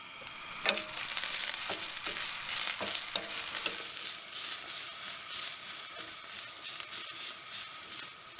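Finely shredded carrot sizzles in a pan with teriyaki beef at a camp cooking setup, a moderate frying hiss with several stirring scrapes early on that settle into a quieter, steady sizzle, with no voices.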